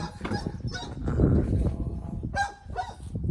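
Domestic fowl in breeding pens, several birds giving repeated honking calls and clucks, close and fairly loud, with overlapping squawks across the stretch.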